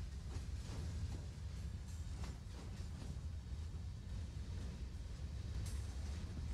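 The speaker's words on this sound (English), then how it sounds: "Gotta love the sound of CSX cars moving in the thing." CSX freight rail cars rolling in the Train Sim World game, with a steady low rumble and scattered clanks and squeals from the wheels, continuous throughout.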